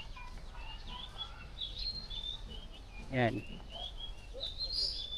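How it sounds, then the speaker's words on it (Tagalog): Small birds chirp and tweet in short high calls throughout an aviary at a bird park in Davao, with a louder squawking call midway and people talking quietly nearby. "Puro ibon."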